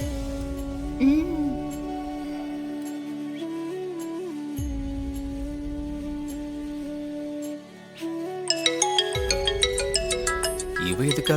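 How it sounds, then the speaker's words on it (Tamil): A mobile phone rings with an incoming call, playing a looping melodic ringtone that carries steadily for several seconds and grows brighter and busier toward the end, heard fairly close over faint background music. "இவ எதுக்காக இப்ப எனக்கு கால் பண்றா?"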